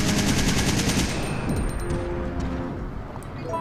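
Assault rifle fire in Resident Evil 3 on GameCube, a fast, loud, sustained automatic burst that rattles steadily and then fades a little toward the end, with no talk.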